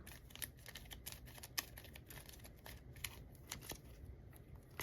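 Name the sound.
shuffling Marvel Champions playing cards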